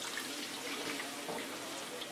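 Pasta water pouring into a pan of browning garlic and olive oil, a short, steady, faint splashing trickle with a soft sizzle, heard alone.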